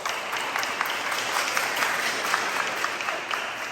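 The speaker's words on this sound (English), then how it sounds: "So give Dr. Benner a round of applause." Steady applause fills a room at a school sports awards banquet as Dr. Al Benner is welcomed, a dense, continuous clatter of many hands with some sharper individual claps poking through.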